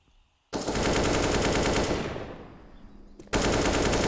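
In Counter-Strike: Global Offensive, loud rapid automatic gunfire rattles in a sustained burst of wall bangs, tails off, then a second burst starts abruptly near the end.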